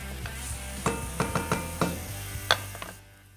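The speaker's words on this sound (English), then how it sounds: "We start from the sauté, oil in the casserole, 1 clove of garlic, twin clove inside, and its cousins, celery," Garlic, celery, carrots and onion sauté in oil in a casserole, with a low steady sizzle beneath a scatter of sharp utensil clicks and scrapes, close by and fairly quiet, ending in near silence.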